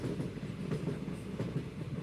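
Steady low rumble of a train rolling along the rails, with a faint rhythmic clatter running continuously throughout, moderately loud and close.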